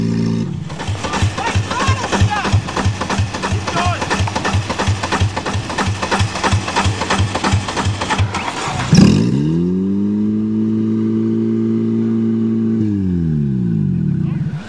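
A demolition derby car with a stuck throttle roars in rapid rhythmic engine pulses, then jumps to a loud, steady, high-pitched held rev for several seconds before easing slightly.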